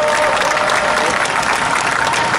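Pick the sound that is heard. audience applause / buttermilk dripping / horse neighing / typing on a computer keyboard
audience applause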